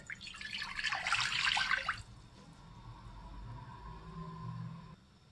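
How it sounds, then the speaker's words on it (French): About half a litre of lukewarm water pours into a salad bowl for bread dough, a close splashing rush lasting a couple of seconds, then a faint trickle and quiet room tone. "Saladier, je mets 50 centilitres à peu près d'eau tiède."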